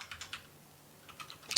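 Someone types on a computer keyboard in short bursts of soft, close key clicks with a pause in the middle. The clicks are faint, and no one speaks.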